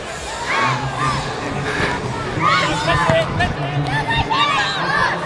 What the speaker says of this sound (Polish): tu jest walka, to mi się podoba, kibice krzyczą